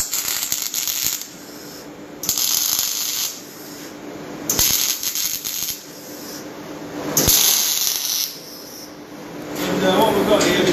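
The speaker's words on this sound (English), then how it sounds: "We're just going to weld this stuff like that once you're right." MIG welding on 12mm square steel hanging basket brackets gives a loud, steady crackling hiss in several long bursts separated by brief pauses.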